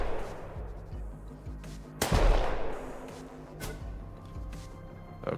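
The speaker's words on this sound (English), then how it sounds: "I'm sure he's gonna shoot at me." Gunfire crackles in a turn-based video game, a loud sharp shot standing out over a dense, continuous bed of game noise and music, with a few fainter reports following.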